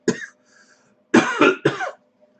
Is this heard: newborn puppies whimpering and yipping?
no